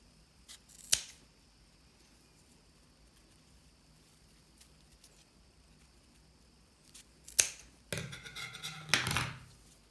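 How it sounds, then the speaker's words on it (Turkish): Scissors snipping raffia fiber strands in a quiet room: a single close crisp cut, a second one later, then a short burst of rustling and snipping at the end. "Buna karşılık gelen diğer parçada da aynı şekilde 2 lifi keseceğim"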